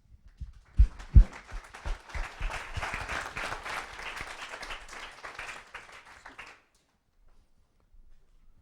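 Audience at a lecture bursts into warm applause welcoming speaker Ricky Burdett, dense clapping swelling for about five seconds then fading out to silence.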